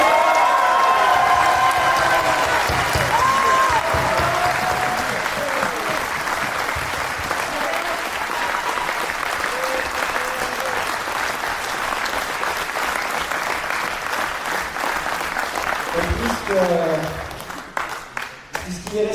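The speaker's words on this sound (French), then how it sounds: "je vais vous demander un tonnerre d'applaudissements" A crowd at a live stage show claps in sustained, thunderous applause, loud and continuous, with some cheering mixed in and a voice speaking over it toward the end.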